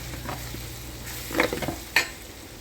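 Chicken frying in a pan with chilli powder and coriander powder, stirred with a utensil: a steady close sizzle under a few quick scraping strokes and a sharp clack near the end.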